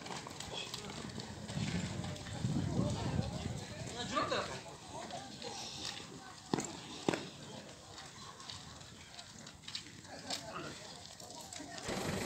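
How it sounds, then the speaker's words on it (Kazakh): Horse hooves clopping on slippery, muddy ground amid a noisy outdoor crowd at an ulak horseback game in Osh, with people talking throughout and a few sharper thuds standing out. "Жер чыла батқақ болып қойған, аттар тайып кетейін деп отады."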